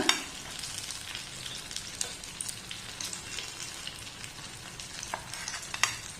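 Banana snack pieces fry in oil, browning on both sides, giving a soft, steady sizzle with small pops and light crackles throughout.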